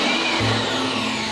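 Vacuum cleaner run in reverse as an air blower, a brief, steady, loud whooshing motor roar with a constant whine, heard alone.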